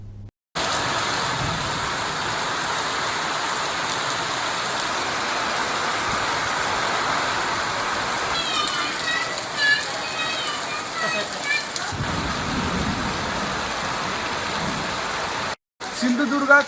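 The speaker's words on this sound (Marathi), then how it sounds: "वारा आणि पाऊस हे दोन्ही आता सुरू झालेले आहे." Rain falls with wind in the town of Kankavli, Sindhudurg, a steady hiss of downpour on surfaces with occasional passing vehicle sounds, while a reporter talks over it.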